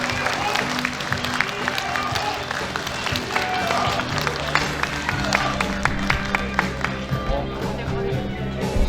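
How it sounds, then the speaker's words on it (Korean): Crowd applause for lawmaker Lee Gae-ho at a 2024 legislative report meeting in Yeonggwang County, sustained clapping with sharp individual claps over music, loud and continuous. "이계호 의원님께 다시 한번 뜨거운 격려의 박수 부탁드리겠습니다."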